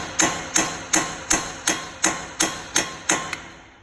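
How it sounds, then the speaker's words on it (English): A hammer taps a front strut up into place on a 2008 Mazda during a suspension repair, nine sharp metallic strikes at a steady rhythm, close and loud, with no talking. "We'll keep tapping until we get that all the way up."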